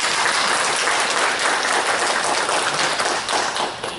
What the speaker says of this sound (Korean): 두 분들이 박수를 좀 격려해 주시죠